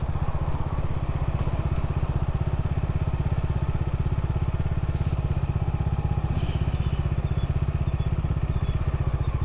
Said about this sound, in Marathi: आणि ही जी बाईक आहे ना डॉमिनार 400